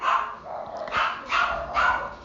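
A dog at home barks three times in a steady rhythm, each bark fairly loud and close, with no one talking over it.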